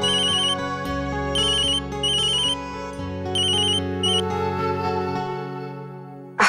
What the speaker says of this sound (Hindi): माँ फोन है